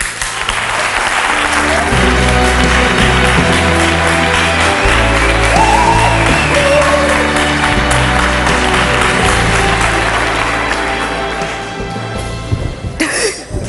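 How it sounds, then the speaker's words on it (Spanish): A television studio audience on a Spanish daytime talk show bursts into long, loud applause, dense steady clapping over a driving musical beat that carries on for over ten seconds before thinning out at the end. "¡Un aplauso para ella!"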